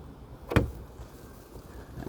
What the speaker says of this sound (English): See the door come open?